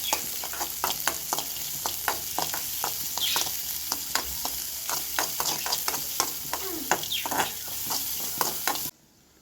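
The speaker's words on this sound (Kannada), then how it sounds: "ಬೆಳ್ಳುಳ್ಳಿ ಮತ್ತು ಈರುಳ್ಳಿ ಸ್ವಲ್ಪ ಫ್ರೈ ಮಾಡುವ." Garlic and onion fry steadily in a pan, a continuous dense sizzle with sharp crackling pops throughout, close and fairly loud, with no talking, before cutting off abruptly near the end.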